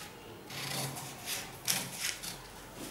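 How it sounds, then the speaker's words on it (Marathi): Scissors slicing through cloth as the front piece of a half katori blouse is cut out, a series of soft rasping snips in uneven bursts, close and fairly quiet, with no voices. "याप्रमाणे ड्राफ्टिंग झाल्यानंतर आपण हा फ्रंट कापून घेणार आहे"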